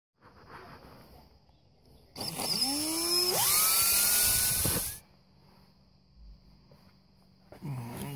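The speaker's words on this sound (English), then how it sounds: "And then I drill holes for" A power drill bores holes for small door pegs during a bus conversion, one loud close burst of about three seconds whose whine climbs in pitch, set between quiet room noise.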